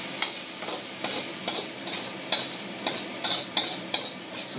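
Garlic being stirred through pork fried rice in a hot pan, with a steady sizzle and about a dozen regular scraping strokes, close and fairly loud.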